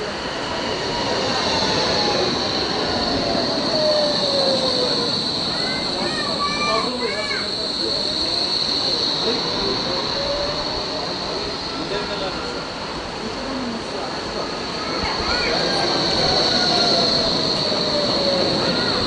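A Berlin tram rolls along with loud, sustained rumble and repeated high metallic wheel squeals on curves, heard close up with talk over parts of it.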